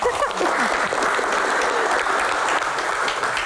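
A crowd at a Q&A event bursts into dense, steady applause that stays loud and even throughout, with a faint voice at the very start.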